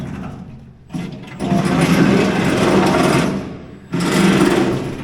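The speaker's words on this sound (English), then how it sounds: "Sounds like Kevin's reaming the hole out." Bursts of a whirring power tool reaming a hole in metal during a Willys Jeep CJ2A body fitment, two long runs separated by brief pauses, close and fairly loud.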